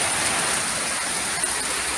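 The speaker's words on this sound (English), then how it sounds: "Yep, now it's pouring rain." Heavy monsoon rain pours down on Lombok as a steady, dense, loud hiss with no other sounds standing out.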